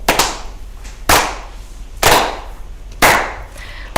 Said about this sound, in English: so that'd be everyone clapping then?